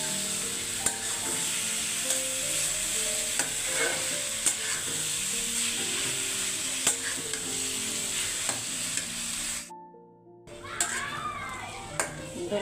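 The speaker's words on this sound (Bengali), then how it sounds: "এই যে মূলা ভাজিটা সিদ্ধ হয়ে গেছে, এখন মূলা ভাজিটা করে নিচ্ছি। টমেটো দিচ্ছি অল্প একটু" Radish being stir-fried with a little tomato in a pan, steady sizzling with spatula scrapes and taps throughout, briefly cut to silence near the end before resuming with faint voices.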